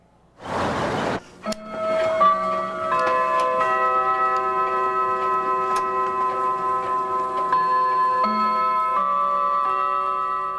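Numerous clocks in a room, with a short burst of noise at the start followed by overlapping ticks and chiming, sustained metallic tones ringing steadily and close for the remainder.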